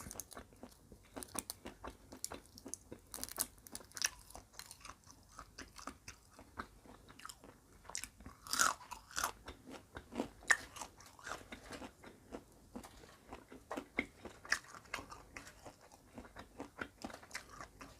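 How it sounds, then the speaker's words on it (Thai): Close crunching and chewing of fried cockroaches, with repeated crisp bites and grinding chews in an irregular rhythm throughout and no talk. "เคี้ยว ให้ ละเอียด"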